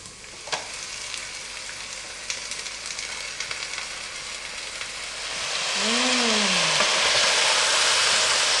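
Onions and grated garlic fry in olive oil with a steady, soft crackling sizzle that swells louder toward the end, joined by a brief rising-and-falling squeak near the close.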